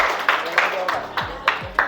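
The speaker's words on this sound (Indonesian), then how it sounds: "Tepuk tangan dulu dong." Students in a classroom clap in a slow, even rhythm, about six distinct claps spaced roughly a third of a second apart, with some low voice underneath.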